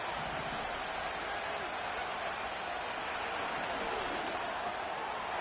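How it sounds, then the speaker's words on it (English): Steady, dense crowd roar fills a stadium in the video game Madden 25, broad and continuous without pauses, with faint murmurs of voices blended into the wash. "The noise very loud from the crowd."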